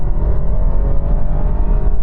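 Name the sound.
BMW 320i accelerating from standstill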